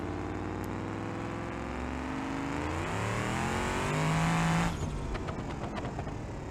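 A car engine in BeamNG.drive, the revived Barstow project car, revs steadily upward in a rising whine for several seconds, then drops off sharply as the throttle lifts, with no one talking.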